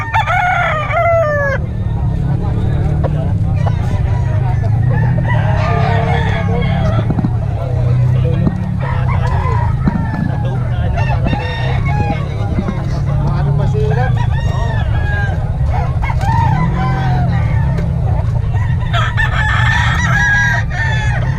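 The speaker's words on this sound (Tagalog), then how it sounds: "Manok." Roosters crow repeatedly amid a busy crowd of clucking chickens at a market, with steady background chatter and noise throughout.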